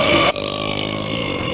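A loud, drawn-out human burp comes up close, with a deep buzzing tone that lasts over a second after a brief sharp noise, heard during a Rainbow Six Siege gaming session.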